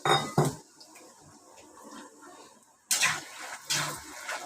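Peanuts dry-roasting in a pan for bhadang, heard as metal scraping and clattering of a spoon against the pan, with loud bursts at the start and again toward the end and quieter rattling between, no talk.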